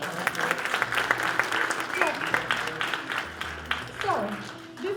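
Audience applause fills a room at a Bollywood dance drama show in India, steady clapping over several seconds with crowd noise and talk running underneath.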